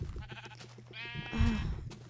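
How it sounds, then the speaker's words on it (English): A sheep bleats in the video game Minecraft, one wavering nasal call rising out of low background sound and a voice speaking. "So I want to kill you, sheep."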